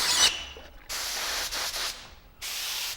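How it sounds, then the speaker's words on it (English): Off-white spray paint hissing from an aerosol can onto a zombie mask in three or four close, steady bursts with brief pauses between them, loud and alone. "So now I'm going to spray on a little, kind of an off-white, and this just makes him a little pale and sickly."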